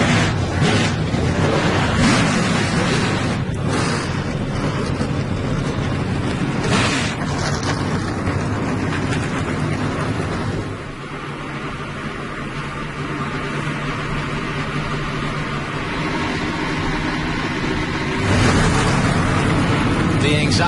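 Race car engines firing up together at Daytona before an ARCA race, a loud, dense, continuous roar with broad rumble that dips briefly and then swells again, with a crowd-like wash underneath.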